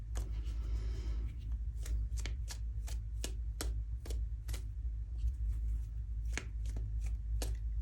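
Tarot cards being shuffled and pulled by hand, a series of crisp riffling flicks and taps in an irregular rhythm, close and clear over a low steady hum.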